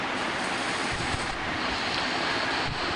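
A shower running in the Talking Tom Cat game on an iPad, a steady broadband hiss of spraying water that stays loud and even throughout, with no voices over it.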